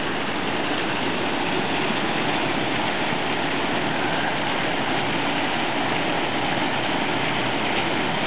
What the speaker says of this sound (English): there's actually water running down off the cliffs above, like a natural little shower